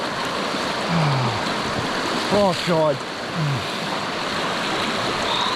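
Rushing river water roars steadily at a rough river crossing on a gold-mining trip, loud and continuous, with a brief spoken exclamation partway through.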